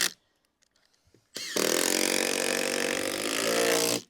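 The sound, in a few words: screws being driven into 4x2 timber floor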